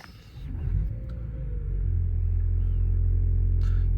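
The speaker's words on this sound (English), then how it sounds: "If I jump in quickly as well, start the car up." Toyota Corolla engine starting up, a short crank followed by the motor catching into a steady low rumble that swells and settles into an even idle, fairly close inside the car.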